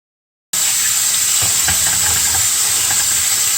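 Water pours over boiled pasta to rinse it, a loud, steady rushing hiss that starts abruptly after a moment of silence and keeps on without a break.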